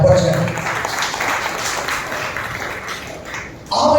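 Applause from a church congregation during a Telugu advent sermon, a steady wash of many hands clapping for about four seconds, fairly loud and continuous, dipping briefly near the end before swelling again.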